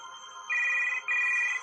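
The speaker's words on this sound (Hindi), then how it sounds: "प्रीति ने जाकर फोन उठाया" A phone rings twice, two sustained electronic tones separated by a short gap, clear and close over a quiet background.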